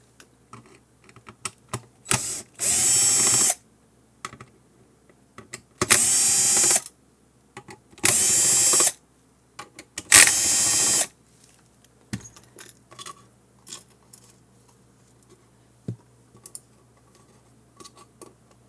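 A power screwdriver backs screws out of a ClearCom V-Series intercom panel in four loud, brief whirring bursts, with small clicks and handling noises between them.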